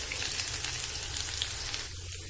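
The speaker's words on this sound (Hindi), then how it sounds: "प्याज भाजी हो गला" Onions sizzle and fry steadily in hot oil in a home kitchen pan, a dense, close crackling hiss that carries on unbroken and eases slightly near the end.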